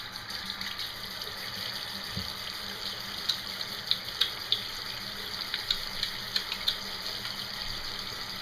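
Tap water runs steadily into a sink for handwashing, a continuous moderate hiss with a few faint clicks and knocks scattered through it.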